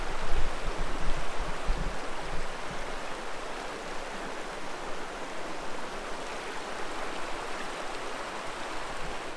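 Steady broadband rush of flowing river water at the Buffalo River water access along the Buffalo River Trail in Arkansas, continuous and close, with no voices.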